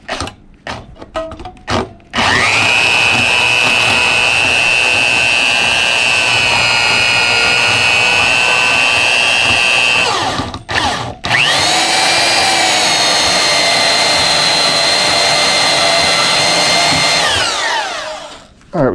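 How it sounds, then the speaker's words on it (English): A loud, steady whine of a power tool cutting through brass and steel scrap, running in two long sustained bursts with a short break between, after a few brief starts. "we cut through the brass and the steel"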